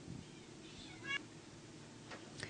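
A cat at an animal shelter gives a couple of short meows, one around the middle and a fainter one near the end, over a low steady room hum.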